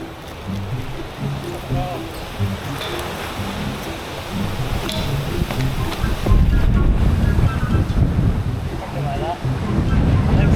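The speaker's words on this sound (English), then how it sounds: "It's so windy." Strong wind buffeting the microphone on a bikepacking trail along a fire trail in NSW, a constant roaring gust that swells louder partway through and drowns most other sound.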